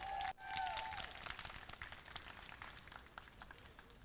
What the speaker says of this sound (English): Let's get a huge round of applause.